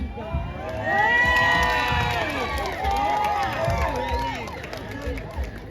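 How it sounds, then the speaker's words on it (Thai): A crowd at an outdoor park event cheers for a young contestant in a Thai Noppamas pageant. Many voices shout and whoop, including high children's voices, in a steady, loud babble that carries through the whole stretch. "ขอเสียงปรบมือให้ผู้เข้าร่วมประกวดนะครับ"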